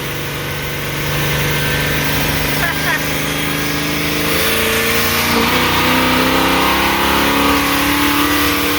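A motorhome engine revs while driving, a loud, steady mechanical drone that climbs gradually in pitch, with voices in the cabin over it.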